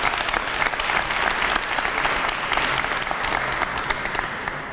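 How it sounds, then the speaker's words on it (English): Audience at a Cleveland City Council lead-safety coalition press conference breaking into sustained applause, dense steady clapping filling the whole moment without pause. "Give yourself a round of applause"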